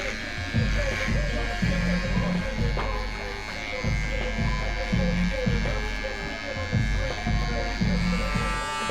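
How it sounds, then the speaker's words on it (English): An electric foil shaver buzzes loudly and continuously during a fade haircut, its pulsing hum rising and falling as it moves over the head, while people talk over it. "Coming in with the foil shaver. This thing's so loud."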